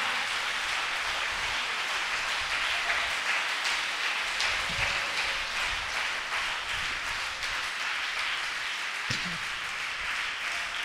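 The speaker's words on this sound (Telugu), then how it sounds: "వారు చేతులు పైకెత్తి చప్పట్లు కొట్టాడు" A church congregation applauds at an Easter service, a sustained crowd of hands clapping together in a dense, even patter that holds for the whole stretch without speech over it.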